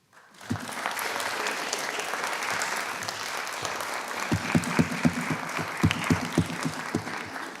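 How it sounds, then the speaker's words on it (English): Graduation audience applauding their supporters at a SAMS UHI ceremony: steady broad clapping from a large seated crowd, with a few nearer, sharper claps standing out toward the end. "I think you should applaud them."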